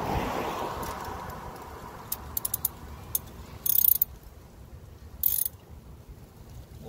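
Ratchet wrench clicks while a part is tightened on a 2005 Honda Civic engine with a cylinder 3 misfire, a few short bursts of sharp, close metallic ticking separated by quiet pauses.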